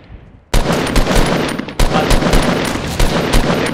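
Loud gunfire in the Fortnite video game, including sniper fire: a sharp first shot after near silence, then a dense run of rapid cracks and bursts with a few distinct louder blasts.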